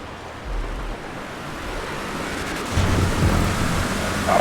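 Steady rain and spray hiss in a wet racing video game, a broad continuous wash that swells louder in the second half, with low rumbling underneath and no voices.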